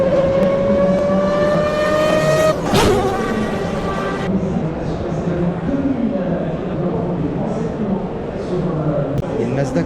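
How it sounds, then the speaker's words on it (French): A classic car engine at the Rétromobile 2026 show in Paris revs loudly and close, rising in pitch before dropping back to a rough idle, with a crowd murmuring and voices around it. "Je vous mets le son qu'a fait cette caisse"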